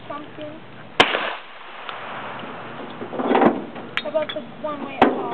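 Two sharp gunshots aimed at a pumpkin crack outdoors, one near the start and one near the end, with people talking in between.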